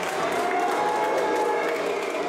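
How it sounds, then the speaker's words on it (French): Crowd applause for Valérie Pécresse at a Jeunes Républicains rally: a dense, steady wash of clapping and crowd noise that holds at an even level from start to finish. "des applaudissements clairement pour Valérie Pécresse"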